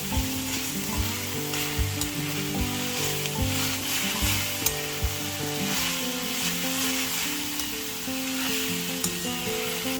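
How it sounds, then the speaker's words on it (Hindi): Green chilli, ginger and a pinch of fresh asafoetida crackle and fry in a little hot oil, a loud, dense, continuous sizzle running evenly from start to finish with no voices. "और इस तेल में हम डालेंगे हरी मिर्च और अदरक, अगर आपका पसंद हो तो अदरक डालिए, और थोड़ी सी फ्रेश हींग।"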